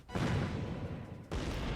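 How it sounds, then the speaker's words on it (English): A series of booming explosions in the video game Code: Realize, loud continuous rumbling bursts that roll on with a brief dip before another blast hits, no voices over them. "Not just one, but a series of booming bursts, going on and on."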